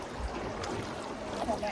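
A boat is rowed across water, giving a faint, continuous wash of lapping and trickling water with soft splashes, heard from close by under low ambient noise.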